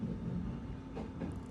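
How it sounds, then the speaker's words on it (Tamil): A train running on rails in Japan, a steady low rumble with faint rattles throughout, close and continuous with no voices. "ட்ரெயின் ஓட்டுறாரு பார்த்தீங்களா"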